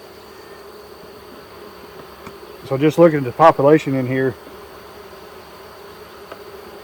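Honey bees in an open nuc hive during an inspection, a steady faint hum throughout, close, with someone talking briefly over it in the middle.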